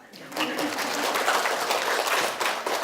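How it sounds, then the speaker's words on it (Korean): A lecture audience breaks into applause for a pharmacist's talk, a dense burst of clapping from many hands that rises quickly and holds for a few seconds, fairly close and clear. "이러면 박수를 쳐주셔야지"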